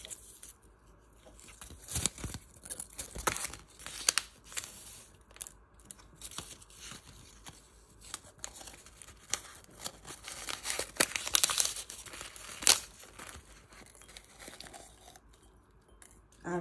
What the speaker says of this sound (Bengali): আমিও প্যাকেটটা ছিঁড়ে নিয়েছি।